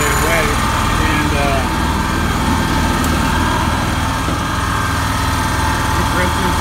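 A Harbor Freight 29-gallon air compressor runs off a Miller Trailblazer 325 welder-generator, giving a steady, close engine-and-motor drone with a constant throb while someone talks over it.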